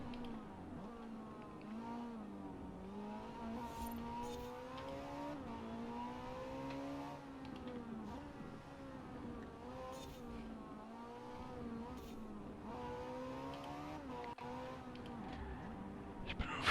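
A race car in a racing video game runs a solo time lap, its engine droning steadily with rising and falling pitch as it shifts gears through corners, heard alone at a moderate level for the whole stretch.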